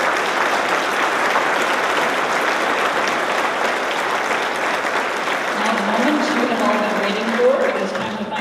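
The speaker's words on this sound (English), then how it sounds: "Let's give them a big round of applause." A large awards-ceremony audience at the Athena Awards breaks into sustained, dense applause that stays steady throughout, with a voice and some cheering rising near the end.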